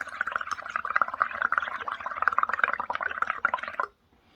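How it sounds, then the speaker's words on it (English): Air blown into liquid resin produces a rapid, close burbling of bubbles that continues for several seconds and stops suddenly. "I'm just going to blow some more bubbles in my liquid."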